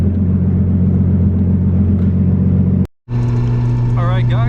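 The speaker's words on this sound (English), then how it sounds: "Car is running phenomenal." The engine of a Nissan R32 Skyline rumbles steadily in a low drone from inside the car while driving, then cuts out briefly and resumes, with a voice speaking over the end.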